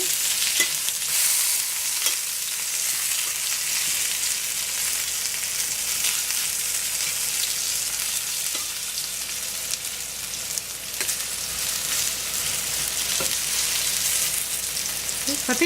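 Potatoes pan frying in a covered pan, a steady dense sizzle with broad crackling hiss throughout, occasional faint stirring or lid ticks, no voices.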